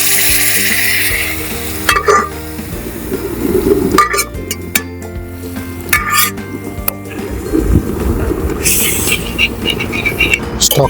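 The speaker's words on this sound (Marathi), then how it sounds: "आपण याच्यात मटणाचा स्टॉक ॲड करतो" Mutton stock hits hot fried masala in a pan, sending up a loud, close sizzle with stirring scrapes and clinks that keeps crackling throughout.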